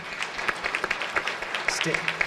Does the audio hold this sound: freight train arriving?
no